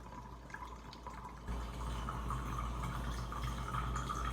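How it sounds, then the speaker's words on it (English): Alcohol pours steadily into a jar for a cayenne pepper tincture, a continuous splashing trickle that grows fuller after the first moment, close by with no voices. "Now you want to pour it all the way up to the rim."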